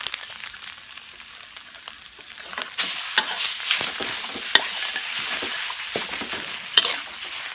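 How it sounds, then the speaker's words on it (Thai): Fish meat being stir-fried in a pan for a Thai larb pla, a continuous close sizzle broken by sharp scrapes and clicks of the spatula, with no talk. "เนื้อปลาลงไปผัดเลยครับ"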